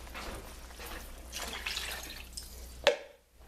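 Liquid pours into a simmering pot of vegan, gluten-free celery soup, a soft continuous trickle and splash ending in a single sharp drip-like splash, followed by quiet.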